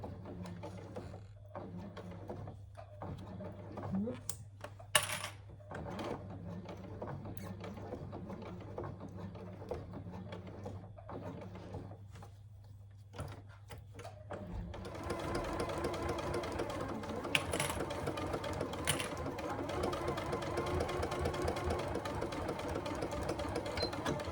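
Sewing machine stitching slowly across the small connector tab of a Scarlett Hobo bag, a steady mechanical whir with needle ticks that starts in short bursts, then runs continuously and louder in the second half.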